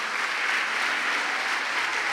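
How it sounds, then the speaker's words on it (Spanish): A church congregation claps loudly during a worship vigil, a thick, continuous roar of applause that holds steady through the clip without any speech. "¿Cuánto le damos fuerte esa ofrenda de palmas al Señor?"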